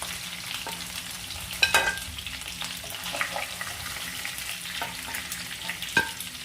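A fish head fries in hot oil while making fish head curry with rice, giving a faint, steady sizzle with occasional light clinks of a utensil stirring the pan.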